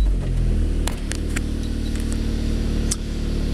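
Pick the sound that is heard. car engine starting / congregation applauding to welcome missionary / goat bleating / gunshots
car engine starting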